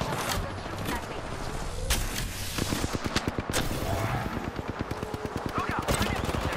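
Rapid bursts of gunfire in the video game Apex Legends, a dense run of repeated shots under loud team voice chat, with sharper single cracks and a steady rattling stretch toward the end.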